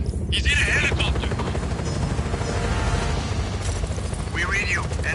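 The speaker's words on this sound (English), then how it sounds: "He's in a helicopter!" Helicopter in the video game Just Cause 4, a continuous low rotor drone throughout, mixed with game effects and short bursts of voices talking over it.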